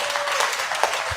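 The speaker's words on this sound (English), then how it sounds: "go ahead, applause, come on" Moderate audience applause at a business networking tour event in Houston, Texas, steady clapping over a brief stretch with some crowd noise.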